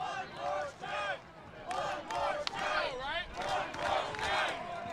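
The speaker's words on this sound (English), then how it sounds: "This big crowd into the game early." A big crowd at an Oakland Ballers baseball game waving yellow rally towels, voices rising and swelling in waves of cheers and shouts throughout.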